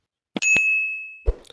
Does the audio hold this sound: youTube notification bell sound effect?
yes